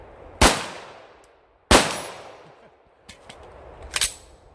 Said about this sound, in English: it took me 3 shots to get that, but I finally got it